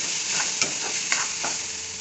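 Dal sizzles in hot oil in a pan, a constant bright hiss broken by a few sharp scrapes and clicks of a spoon stirring it.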